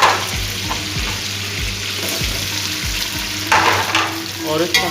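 Chicken fries with green chillies and tomatoes in a loud, constant sizzle, punctuated by regular scraping knocks of a stirring spoon against the pan.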